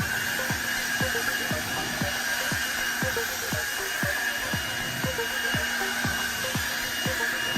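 Vacuum cleaner fitted with a cheap snap-on car drying blower attachment, a steady whining airflow hum running throughout with a regular rhythmic ticking pulse, close and fairly loud, no talking.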